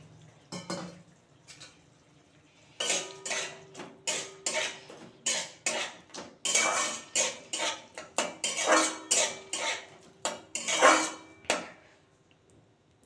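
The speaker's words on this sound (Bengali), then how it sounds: "কাজু কিশমিশটা দিয়ে দিলাম দিয়ে আবার নাড়াচাড়া করে ঢাকা দিয়ে দেবো" A spoon scrapes and clinks against a pan while fruit chutney with cashews and raisins is stirred, a series of close, sharp metallic strokes in an uneven rhythm after a short pause, with no voices.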